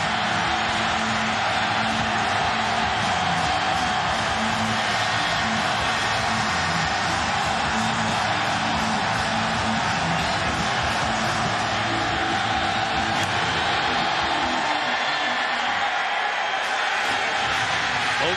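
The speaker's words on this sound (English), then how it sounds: "this is the type of crowd that Coach Tom Herman has wanted, has pined for all year" Large stadium crowd at a Houston college football game against Memphis, a steady dense roar of cheering and chatter filling the air throughout, sustained and loud with no single voice standing out.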